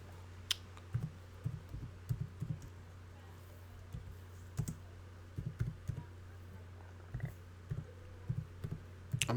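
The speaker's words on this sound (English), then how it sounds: "I'm typing with one hand." Someone types one-handed on a computer keyboard, producing irregular faint clicks in small bursts with gaps between, close and quiet over a low steady hum.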